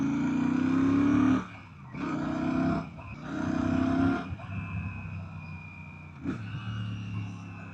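Royal Enfield Shotgun 650 motorcycle engine rumbling and revving in bursts, loud and close, with dips between throttle pulls and a steady idle-like drone in the second half.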